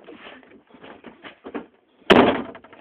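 A Trabant car door shuts with one solid, loud slam, preceded by softer rattling and handling sounds of the door.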